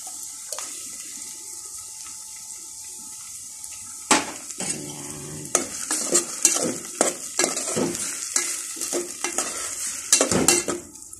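Upo and sardines sizzle steadily in a frying pan as ingredients go in, with a quiet fry through the first seconds. Then come loud clatters of stirring and of a spoon knocking the pan over the hiss.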